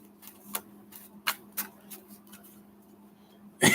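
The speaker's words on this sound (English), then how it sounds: "Shuffle the Oracle cards." Oracle cards being shuffled in soft, separate clicks and light taps spaced irregularly against a quiet hum, ending in a sharper, louder rustle as the deck is handled.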